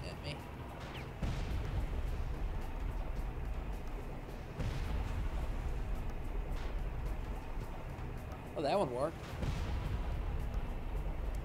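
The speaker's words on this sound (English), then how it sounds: "I think it's a sniper shoot." Sniper gunfire in Far Cry: a few loud, sharp reports spaced seconds apart over a rumbling outdoor backdrop, with a voice briefly audible.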